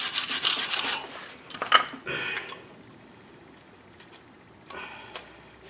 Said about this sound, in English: We're going to clean back in here with a brush and a Scotch-Brite or sandpaper you can use.